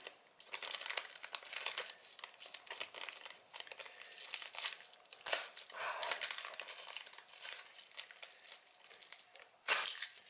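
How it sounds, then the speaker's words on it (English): A plastic package of motorcycle parts for a 2014 Honda CRF450R is torn open by hand, making continuous close crinkling and crumpling with a few sharper crunches and tearing bursts. "Feel like Gail Banks trying to open up a package all shaky and Willy Wonka"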